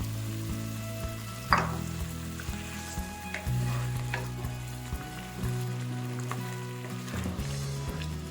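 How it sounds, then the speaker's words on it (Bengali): Spice-rinse water poured a little at a time into a hot pan while cooking palak paneer, producing a close sizzle and bubbling with a sharp burst early on and stirring sounds, a low hum running beneath. "মশলা ধোয়া জল অল্প করে দিয়ে দিচ্ছি।"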